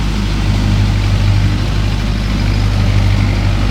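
A Mahindra 585 tractor engine runs steadily at about 800 rpm, a loud, close, low diesel drone with a constant throb, heard alone.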